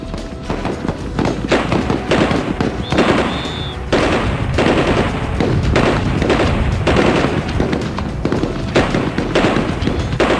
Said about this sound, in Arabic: وهذا بفضل التدريب اليومي الكثيف لتطوير مهارات الرمي بمختلف الأسلحة